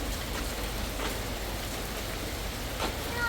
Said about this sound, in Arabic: مطر وفي عاصفة كمان معه